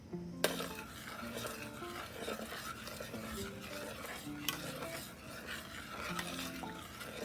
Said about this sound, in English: To pour my cornstarch into the soup. And if you stir it, you'll see it already starting to thicken.